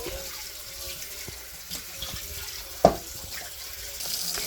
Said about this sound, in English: We're going to turn on the cold water, push it over here.